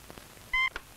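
A single short electronic dial tone beep, like a phone keypad press, faint amid quiet background.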